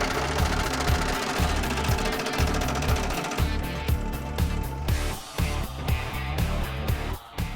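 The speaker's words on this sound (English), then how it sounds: "Brad's using the Dake power hammer to work in a step down on the Firewall" Dake power hammer working a step into a steel car firewall for a Hurst Olds, a rapid, steady mechanical pounding close up, with the rhythm slowing and stuttering in places, no voices.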